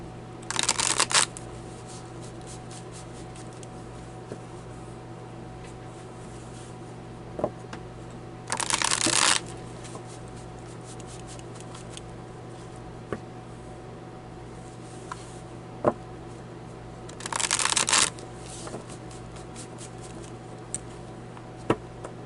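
Tarot cards are shuffled in three short bursts of crisp riffling, each lasting about a second and separated by long quiet gaps with a few faint taps. The sound is close and no one speaks.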